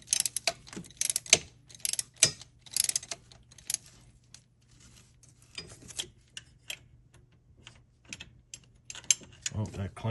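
Ratchet clicking while thermostat housing bolts come off a 2002 Dodge Ram van, irregular bursts of close metallic ratcheting with pauses and a faint steady hum underneath, no talking.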